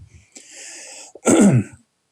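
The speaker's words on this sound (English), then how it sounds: "I've got a bit of a cough, sorry." Someone clears their throat, then gives one loud, close cough, short and harsh, followed by silence.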